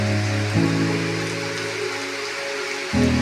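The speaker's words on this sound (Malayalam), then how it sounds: "മഴയുണ്ട്, നല്ല മഴയുണ്ട്." Heavy rain pours down outside a house veranda, a dense, even hiss that holds at a constant loud level throughout, with a low humming tone underneath and no talking.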